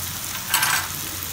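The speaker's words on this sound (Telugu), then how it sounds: "ఈ కారం కూడా కొంచెం ఫ్రై చేసుకోవాలి" Chili powder fries with gram flour in a pan, giving a steady close sizzle with a brief brighter surge of scraping or stirring midway.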